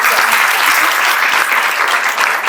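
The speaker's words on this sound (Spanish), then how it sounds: "les pido un aplauso para Lu" Audience at an interview event clapping for Lu Gaitán in a loud, dense, continuous round of applause with a few sharper claps near the front.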